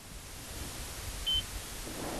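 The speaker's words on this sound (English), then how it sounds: "you should in a very short period of time hear a single beep" A single short, clear electronic beep from a satellite unit powering up sounds once midway through, alone over faint background hiss.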